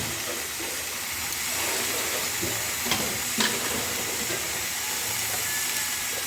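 Cumin, coriander, chilli, salt and turmeric masala frying in a pan for a bata fish curry with potato and green banana, a continuous close sizzle with occasional scraping stirs of the spatula.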